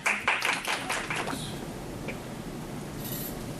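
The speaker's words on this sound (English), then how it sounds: "let's give a nice round of applause" An audience gives a short round of applause for a speaker at an event, a burst of hand clapping that fades away within about a second and a half into quiet room tone.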